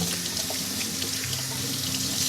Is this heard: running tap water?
yes